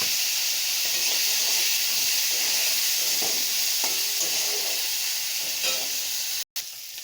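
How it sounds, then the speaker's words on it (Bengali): Crabs coated in salt and turmeric fry in hot oil left over from frying potatoes, a loud, dense, continuous sizzle and hiss close up, broken by one brief cut near the end. "আলু ভাজার তেলেই আমি কাঁকড়াগুলো ভেজে নেব।"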